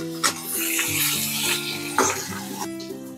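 Cooked chicken sizzles in a pan as it is stirred for Thecha chicken, a steady frying hiss with a few clinks of the spoon over a low, sustained tonal background.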